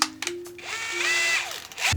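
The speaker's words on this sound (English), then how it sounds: "I'll drill it just with this first, get the hole through" An electric drill bores a hole through sheet metal inside a van under construction, a steady whirring grind that rises and holds for over a second, close and fairly loud, with brief clicks before and after.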